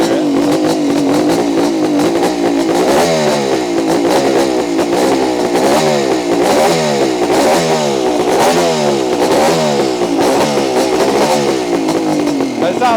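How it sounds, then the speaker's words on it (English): A 1974 Kawasaki H2B 750cc motorcycle engine revs loud and close in repeated rising and falling surges, with a rough, clattery edge. Someone talks over the engine. "It's quite a loud bike."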